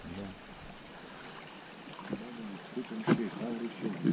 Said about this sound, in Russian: Из-под земли течет вода.